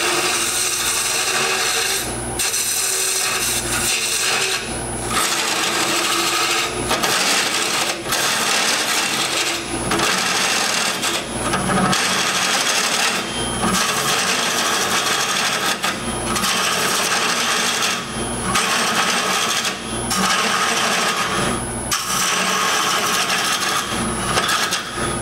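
A lathe tool cuts into spinning Norfolk Island pine, a loud continuous scraping and rasping hiss broken by brief regular pauses as the cut is repeated, with no talk.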